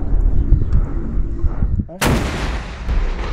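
An SPG-9 recoilless gun fires a single round at a 300 m target during a military competition, a sudden loud close blast that cuts through low background rumble and fades into a lingering roar.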